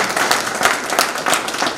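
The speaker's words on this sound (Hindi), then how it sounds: "सबसे पहले उनके लिए ताली बजे जा रहे हैं" Audience applause at a municipal award and felicitation ceremony in Udaipur, a dense, steady burst of many hands clapping at close range throughout.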